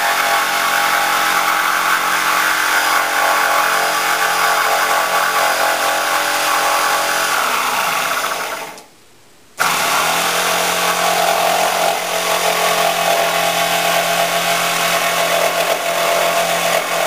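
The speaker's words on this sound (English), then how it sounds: "I'll use a jigsaw to make this cut." Jigsaw cutting through a large wooden sideboard top panel in a furniture workshop, a loud continuous buzzing saw drone that stops abruptly for about a second, then resumes just as steady.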